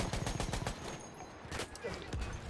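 Rapid bursts of gunfire in the World War I shooter game Battlefield 1, dense overlapping automatic shots and fusillades, loud and close, with a voice talking over the shooting.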